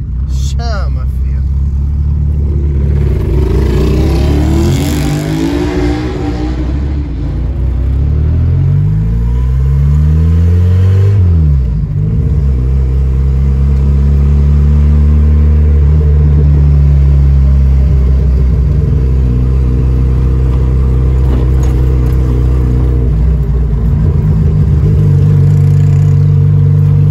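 Turbocharged VW Gol engine revved hard on a dyno, loud and close, climbing and falling in repeated sweeps before holding a steady high-rpm roar, with voices faintly underneath.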